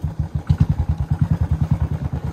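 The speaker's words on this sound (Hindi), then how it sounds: "बाइक पूरी तरह स्किड कर रही है" Royal Enfield Bullet motorcycle on a bad off-road track, its engine thumping in a steady, rapid low pulse close by, a rhythmic chugging with slight clatter as the bike struggles and skids.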